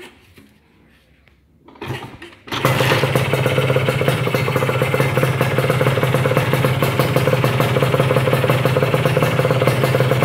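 A Kawasaki Ninja motorcycle engine cranks briefly, catches and settles into a loud, steady, close idle that runs on without a break.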